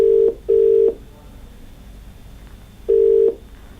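A telephone call being placed, with clear electronic ringback tones: two short buzzing rings in quick succession, a pause, then a third ring, loud and close with faint line hiss between and no talk.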